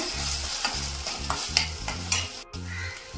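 Onions sauté in a pan as homemade tomato sauce is added, with close stirring strokes in a regular rhythm over a crackling sizzle and one brief break near the end.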